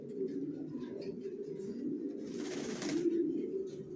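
Racer pigeons coo softly in low, repeated throaty murmurs, with a brief rustle of wings or movement in the middle, all fairly quiet and close.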